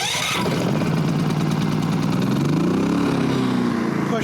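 A Firman WH03242 inverter generator engine cranks and catches, then runs steadily with a rising hum that settles into a close, loud, continuous drone.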